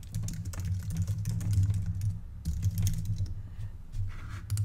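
Fingers type on a computer keyboard in a quick irregular run of soft close key clicks, with a short pause midway before the typing resumes, alone over a low background hum.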